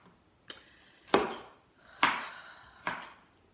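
Knife chopping rough-cut onions on a board: four sharp, separate chops spaced about a second apart, close and fairly loud, with no talking.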